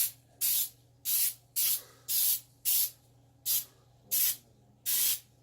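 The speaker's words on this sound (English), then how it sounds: "I find it a little bit easier to deal with once that they're lightly coated with, this is baking Pam." Pam baking cooking spray is sprayed onto a pan in eight short, sharp hissing bursts. Each one lasts under half a second, and they come at a steady rhythm, close and fairly loud, over a faint low hum.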